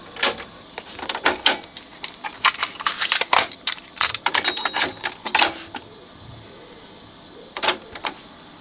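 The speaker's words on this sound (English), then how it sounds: "I think I need to put a tape in." A cassette is loaded into a 1979 Technics RS-M17 tape deck, giving a quick run of close plastic clicks, clatters and latching knocks, then a pause and two final clicks.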